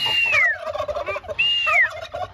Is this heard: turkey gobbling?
yes